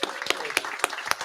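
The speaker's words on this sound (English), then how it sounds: "can we give a round of applause for our panel?" A convention panel audience claps, heard as a handful of evenly spaced, fairly faint handclaps over a second or so.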